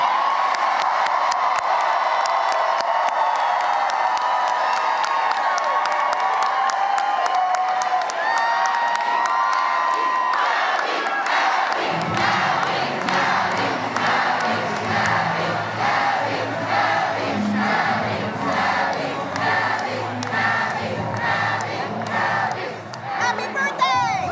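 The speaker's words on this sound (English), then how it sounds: "Spanberger coming out to a very energetic crowd, yelling, "Abby, Abby."" An energetic crowd at a 2025 election night party cheers, whoops and shouts in unison, with a loud sustained roar that shifts into a rhythmic chant about halfway through.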